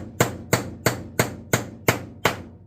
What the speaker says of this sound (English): take your non-marring hammer, use a non-marring side